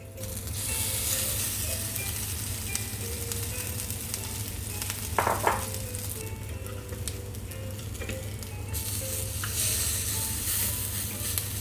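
Shami kebabs fry in oil on medium-high heat, giving a steady soft sizzle and crackle with a low background hum and a few faint clinks.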